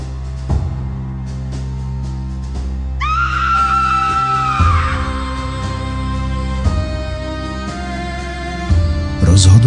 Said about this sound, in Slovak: keď v tom si zrazu začul ženský krik a nárek